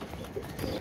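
Soft, low cooing of pigeons nearby, a couple of gentle murmuring calls over faint background noise.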